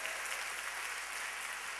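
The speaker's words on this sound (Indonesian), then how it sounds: "Tepuk tangan bagi Tuhan" A church congregation claps together in praise, a dense, even wash of applause sustained throughout, fairly faint and roomy.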